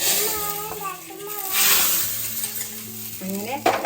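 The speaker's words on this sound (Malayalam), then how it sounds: "കടുപൊട്ടിക്കഴിഞ്ഞിട്ടുണ്ട് ഇനി ഇതിലേക്ക് ഒഴിച്ചു കൊടുക്കും" Hot mustard-seed tempering poured into a pot of Malabar-style sambar, a sharp burst of sizzling and crackle with a voice talking over it throughout.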